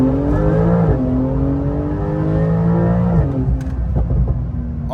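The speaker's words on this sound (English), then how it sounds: "Also, now the car sounds really good." A tuned Porsche 992 Turbo S engine drives along, its loud, steady drone rising and falling with throttle changes, running near and continuous throughout with no voices.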